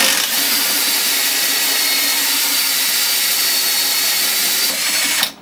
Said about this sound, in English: just made sure that the drill is coming through the pilot hole